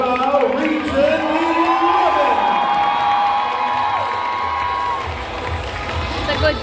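Crowd at a girls' secondary school volleyball match cheers and shouts, with whoops and children's voices rising over the noise; an announcer talks over it, and the sound thins slightly near the end.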